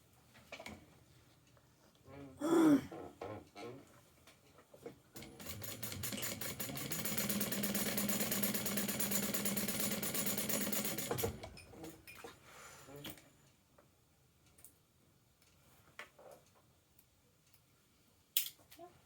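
A sewing machine stitches a seam in fabric in one steady, loud mechanical run of about four seconds, with clinks and handling noises of a craft table before and after.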